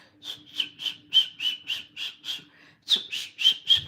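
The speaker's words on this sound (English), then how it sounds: "Sorry if I hurt your ears, but I know how to whistle." A person whistles a quick series of about a dozen short, bright, evenly spaced notes, with a brief pause partway through before the notes resume. The whistling is close and loud, with no talking.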